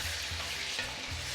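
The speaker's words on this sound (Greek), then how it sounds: "Ανακατεύω." Squid being stirred in a frying pan for a squid stifado gives a soft, steady sizzle with light scraping from the stirring. It is close and fairly quiet, with no voices.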